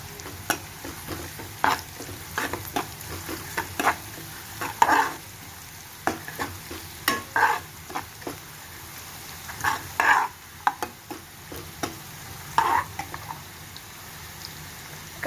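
Finely chopped green chillies fry in hot oil for paneer bhurji, a soft sizzle under repeated sharp scraping and clacking stirs that come in irregular bursts.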